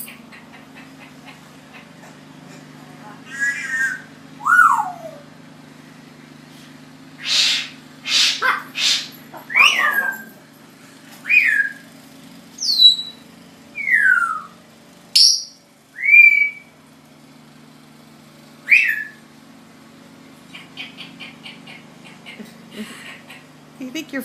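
Pet bird whistling and imitating calls, a series of sharp rising and falling whistles and squawks in separate bursts over a low steady hum, with people speaking between some of them.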